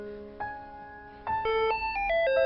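A mobile phone plays a melodic ringtone for an incoming call, a sequence of clear stepped electronic tones that grow louder partway through and continue steadily, close and prominent with no talking over it.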